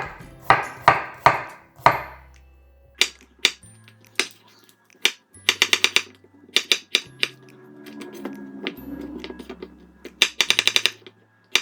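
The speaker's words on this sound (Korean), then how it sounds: "이 사이즈를 보고 그냥 같이 이런 식으로 슬라이스 하시면 됩니다" A knife slices chayote on a cutting board for pickles, giving a string of crisp, close chops that come in quick clusters with short pauses and a faint background hum.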